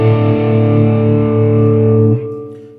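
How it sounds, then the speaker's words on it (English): Distorted electric guitar played through a multi-effect pedal, a sustained chord ringing loud and steady for about two seconds before being cut off and fading. "I want a little bit more distortion"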